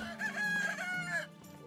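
A rooster crows once in the medieval farming game Medieval Dynasty, a clear drawn-out cock-a-doodle-doo with a short clucking tail, close and alone.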